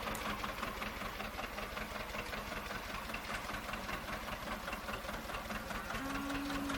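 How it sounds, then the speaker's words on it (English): A John Deere hay elevator runs steadily at a farm, giving a continuous mechanical rattle and hum with a rapid chattering rhythm, unbroken and fairly faint, with no talk. "Now this hay elevator is a much, much newer hay elevator."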